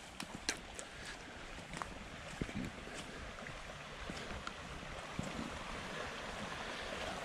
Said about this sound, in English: The creek is up.